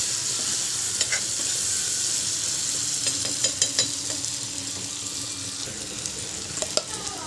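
Bamboo shoots fry in a pan with a loud, continuous sizzle, while repeated scraping stirs and clinks come through up close and grow more frequent toward the end, with no talking.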